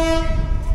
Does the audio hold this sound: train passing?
yes